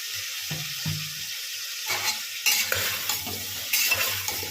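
Crushed ginger, garlic and onion sizzle in a pan while being stirred, with a steady frying hiss and scraping strokes of a utensil up close.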